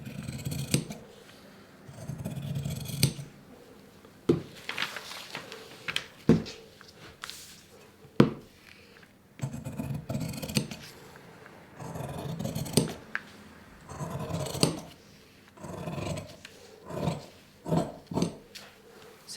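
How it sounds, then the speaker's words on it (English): Scissors cut through fabric for an apron pattern in a run of separate snips and longer cuts, close and clear with no talk. "it's just a case of trying to drive the blade of the scissors to keep with that shape"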